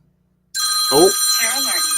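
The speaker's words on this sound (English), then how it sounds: "going to mute the phone" A telephone rings suddenly after near silence and keeps sounding in a bright, warbling tone, with a person talking over it close by.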